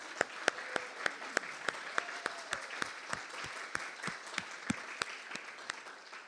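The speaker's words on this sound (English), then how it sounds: "Let's give him a round of applause again." A church congregation at a Sunday celebration service claps for the guest reverend, a sparse, fairly slow patter of distinct individual claps spread over several seconds with no voices.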